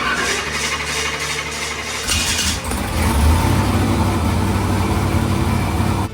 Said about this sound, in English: The instant that we started the engine and began to manipulate the throttle, Cody could tell that there was something wr